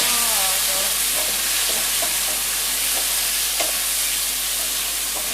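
Browned potatoes and onions with added tomatoes fry in a pan, producing a loud, unbroken sizzle close up. Occasional spatula scrapes and light clinks sit over the steady hiss, with no talking.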